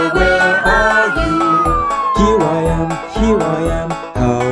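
A wailing ambulance siren rising and falling over a rhythmic nursery-rhyme musical backing, loud and continuous.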